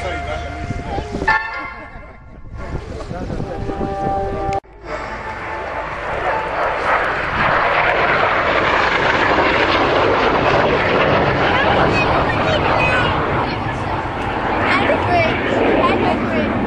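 Aircraft at the Cosford Airshow, a loud roaring jet pass overhead that swells and sustains after a sharp break, with a commentator talking over a public address system.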